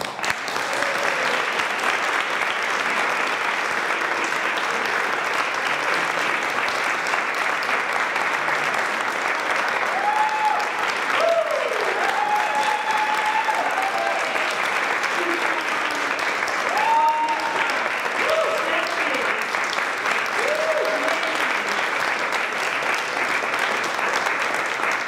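Sustained audience applause after a community theatre performance in Central Brooklyn, loud, even clapping throughout with scattered cheers and whoops rising above it.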